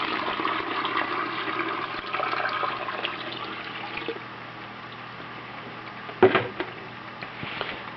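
Warm water poured into pottery glaze to thin it, a steady liquid splash and gurgle that fades after a few seconds, then a sharp brief clatter near the end.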